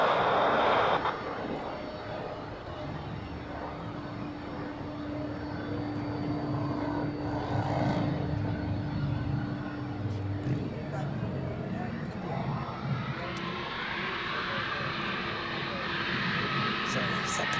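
An airplane at Zurich Airport heard from a distance, its engine roar building steadily into a broad rumble across the whole stretch, with someone talking over it.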